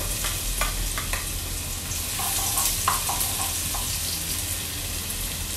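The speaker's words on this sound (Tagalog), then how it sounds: "Tapos ihulog na natin ang bawang." Garlic hits hot cooking oil for chicken adobo and fries with a dense, even sizzle and crackle, close and constant throughout, with a few faint clinks above it.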